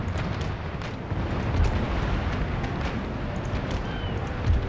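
Naval cannon fire from sailing warships in the strategy game Empire: Total War, heard as a continuous rumbling battle din with dull booms swelling and fading, set at a distance and without talk.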